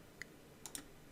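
Three faint, sharp clicks of a computer mouse, one early and two close together near the end, in a quiet room.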